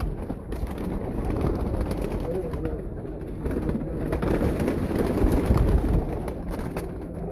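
Pigeons cooing on a rooftop during a gathering, low repeated throaty coos close by over a busy background of murmured voices and ambient noise.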